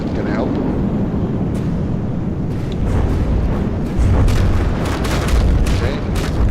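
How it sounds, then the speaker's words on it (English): A barrage of slow missiles exploding in a vehicle combat video game, with rolling booms and rumbling blasts piling up over a dense roar of engines, loud and continuous. "a nice barrage of pretty slow missiles"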